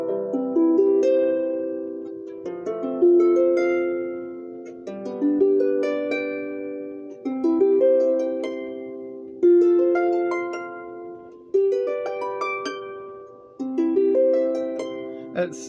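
Rees Sharpsicle 26 harp played uncovered, plucked notes ringing in bright sustained arpeggio phrases that swell and decay roughly every two seconds, close and clear with no talking.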